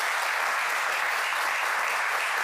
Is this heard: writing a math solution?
no